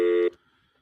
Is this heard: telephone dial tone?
yes